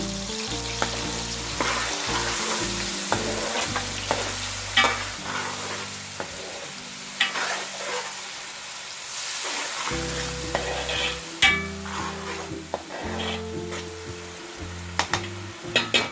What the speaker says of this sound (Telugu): ఇప్పుడు నేను 2 పెద్ద సైజు ఉల్లిపాయలు పేస్ట్ చేసుకున్నాను. వీటిని పచ్చి వాసన పోయేంత వరకు వేయించుకోవాలి.